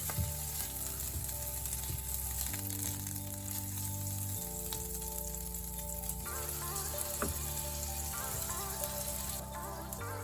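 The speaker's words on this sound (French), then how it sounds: "Juste venir poêler les petits morceaux de mangue avec un petit noisette de beurre." Small mango pieces pan-frying in a knob of butter, a continuous close sizzle with light crackling pops throughout, steady and moderately loud, with no voices.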